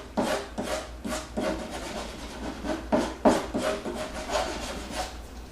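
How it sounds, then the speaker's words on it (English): Rhythmic rasping strokes file the edge of a repaired wooden bathroom door, a dozen or so close, even passes with no talk over them. "Now I'm just going to lightly file this edge just to make it smooth."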